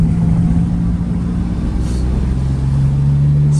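A Geo Metro's small engine drones steadily from inside the car while driving after sitting unused for years, a loud, even low hum with road rumble and a slight shift in pitch partway through.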